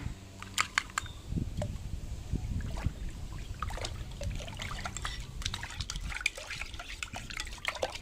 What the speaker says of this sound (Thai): เราก็จะเอาไข่ของเราเทใส่ลงไปผสมในน้ำห้าลิตร